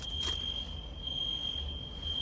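Smoke alarm sounding indoors, a continuous piercing high-pitched electronic tone held steadily throughout, loud and near, with a short rustle at the start and no talk.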